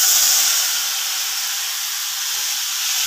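Masala paste dropped into hot oil and ghee gives a loud, steady, hissing sizzle that fills the whole stretch, strongest at the start and easing slightly before swelling again.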